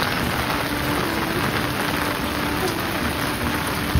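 Heavy continuous rain falls in a Konkan village in Khed, Ratnagiri, a dense steady hiss of drops on surfaces, loud and close throughout without pause.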